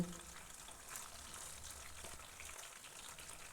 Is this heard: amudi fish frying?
yes